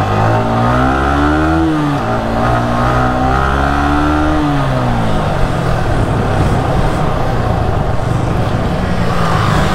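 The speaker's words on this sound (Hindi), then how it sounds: "चलते हैं जरा इसकी बाइक को चला के देखते हैं" A Yamaha R15 V3 motorcycle engine revs while being ridden, its pitch rising and falling through gear changes before settling into a loud, steady roar that stays close and continuous for about ten seconds.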